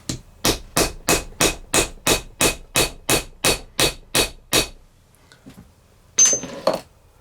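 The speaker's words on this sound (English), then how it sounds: "get one of my metal working hammers and flatten it off" A metalworking hammer strikes a rivet stub on leather to flatten it, about fourteen sharp, evenly spaced blows in a steady run, followed by a brief pause and a couple of softer taps and handling noises.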